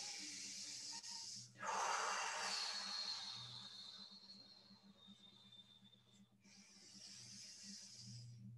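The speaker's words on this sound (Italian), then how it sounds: "Respira profondamente." Slow, deep breaths drawn in and let out during a relaxing detox massage, soft and close over a faint low hum, with one stronger inhale standing out.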